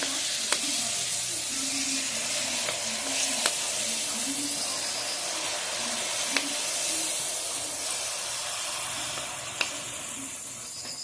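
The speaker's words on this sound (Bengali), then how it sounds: "এরপর জিলিপিগুলোকে ঠিক এইভাবে ভেজে নিতে হবে।" Jalebi fry in hot oil with a steady, moderate hiss and bubbling sizzle, joined by a few sharp pops and occasional soft clinks, heard alone and fairly close.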